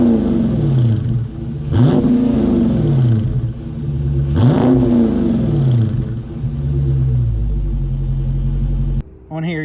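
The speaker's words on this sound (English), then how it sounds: "The main thing you want to hear is the exhaust, so let's go ahead and put in an exhaust clip right now." A 2021 Dodge Charger Scatpack Widebody exhaust revs hard in two or three loud, close bursts, each rising sharply and falling back to a deep rumbling idle, with a steady burble between pulls.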